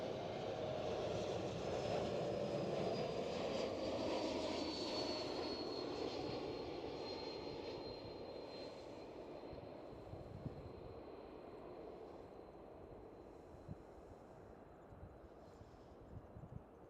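A KLM Cityhopper Embraer E195-E2 jet passes at Amsterdam Schiphol. A fairly faint, distant engine roar carries a thin high whine that slowly fades and settles into a quieter rumble.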